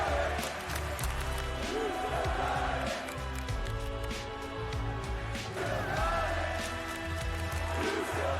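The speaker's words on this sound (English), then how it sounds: "And listen to the crowd." A wrestling arena crowd cheers and roars loudly and continuously, with swelling chants, claps and shouts, and a commentator's voice runs over the noise.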